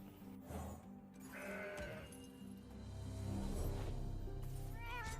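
A mountain goat card in Legends of Runeterra gives a short nasal bleat among game music and chimes, fairly quiet and heard alone.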